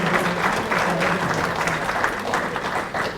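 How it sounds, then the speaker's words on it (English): An audience at a trades residency graduation claps steadily for the graduates, a dense round of applause from a gathered crowd filling the room for a few seconds. "let's give our graduates of our Trades Residency Program a good round of applause again"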